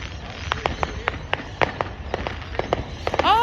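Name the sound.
fireworks going off over suburbs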